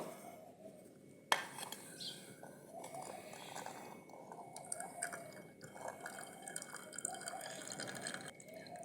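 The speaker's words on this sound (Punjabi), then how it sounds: "ਹੁਣ ਜਿਹੜਾ ਇਹਦੇ ਵਿੱਚ ਪਾਣੀ ਆ ਆਪਾਂ ਉਹ ਵੀ ਕੱਢ ਦਿਆਂਗੇ" Water draining off cooked chickpeas in a village kitchen, a soft trickle and scattered drips with one sharp knock early on, faint and close with no talking.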